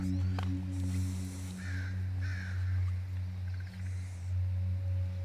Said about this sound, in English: So lots of bird noises.